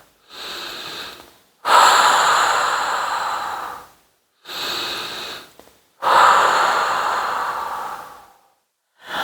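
During a mat Pilates exercise, four long, loud breaths alternate in and out close to the microphone, each a breathy rush lasting about two seconds, separated by short silences.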